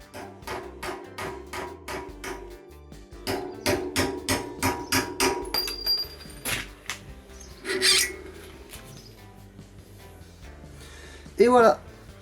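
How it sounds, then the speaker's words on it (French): A hammer strikes a stuck ring in a mountain bike wheel hub with a rapid series of sharp metallic blows, a few isolated knocks and a scrape following, with faint speech in between. "je passe au marteau"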